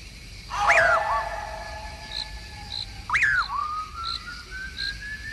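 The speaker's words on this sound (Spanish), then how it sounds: "Un raro silbido penetrador y espeluznante comienza a dejarse oír tras los pasos de Juan Hilario." Two long, piercing whistles, each sliding up then holding steady, sound over a steady chirping of insects at night.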